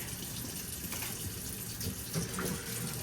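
Warm tap water runs steadily into a sink for washing parts of an Alienware Aura R14 PC, a continuous close splashing flow with a few small clinks and no talking.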